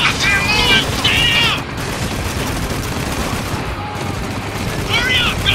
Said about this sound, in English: We're under heavy fire back here!